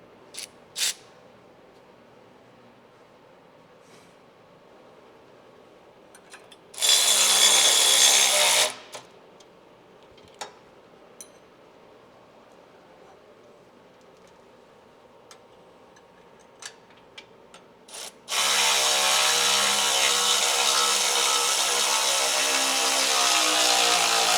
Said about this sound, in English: Now that all 3 bolts are installed, we can go ahead and tighten them all up.